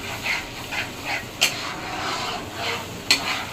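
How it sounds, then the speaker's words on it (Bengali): Spices being sautéed in a pan, a soft steady sizzle with periodic stirring scrapes and two sharper knocks of the utensil, quiet and close. "মশলা কষানো হচ্ছে"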